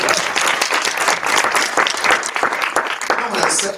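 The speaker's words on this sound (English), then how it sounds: "Let's give Andrew a round of applause." Audience at a business breakfast event bursts into loud, close applause, dense overlapping claps sustained throughout, with a few voices mixed into the crowd noise.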